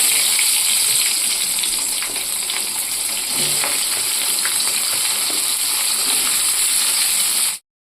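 Chopped onions hit a hot pan and fry in a loud, dense, continuous sizzle with a watery crackle, steady throughout before cutting off abruptly near the end.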